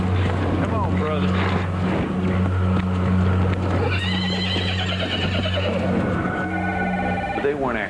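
A horse gives several loud whinnies amid a low engine-like drone and scuffling, with agitated voices shouting intermittently through the commotion.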